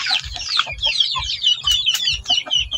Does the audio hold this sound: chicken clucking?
yes